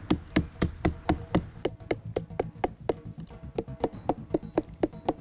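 Rhythmic hard knocks of someone pounding a coconut palm trunk to make tuba sap flow, about twenty sharp evenly spaced strikes, close and loud, with no talking.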